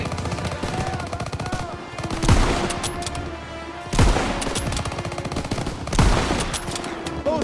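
Rapid machine-gun fire and heavy booming shots rattle across a WW2 battlefield video game as guns fire on a tank, dense overlapping bursts with three big blasts about two seconds apart.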